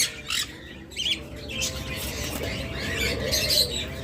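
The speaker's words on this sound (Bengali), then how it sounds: "আমাদের কাছে সবচেয়ে বেশি যে পাখি সেটা হলো লাভবার্ড" Small caged lovebirds and cockatiels chirp and squawk in quick, overlapping bursts, a busy chatter of many birds close by.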